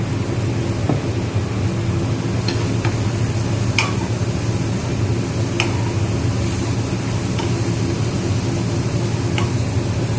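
Prawns deep fry in hot oil with a dense, continuous roaring sizzle, broken by a few sharp ticks and scrapes as they are stirred, loud and close with no voices.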